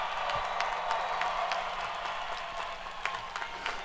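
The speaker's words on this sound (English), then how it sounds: "how about one more cheer for our graduates?" Commencement audience of graduates' families, friends, faculty and alumni applauding and cheering at a business school ceremony, a steady wash of clapping with scattered sharper claps throughout, fairly distant and even in loudness.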